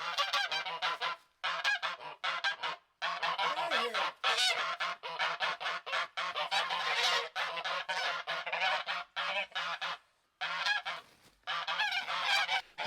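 Embden geese honk loudly and almost nonstop, a close flock trading harsh, overlapping calls with only a few brief pauses.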